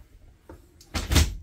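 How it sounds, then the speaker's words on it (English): The door of an Everchill 12-volt refrigerator in a 2023 Entrada 24FM motorhome opening, a light click followed by a fuller thump and soft rustle of the door swinging, close and brief. "Now, this refrigerator is a little unique. You can open the door this way,"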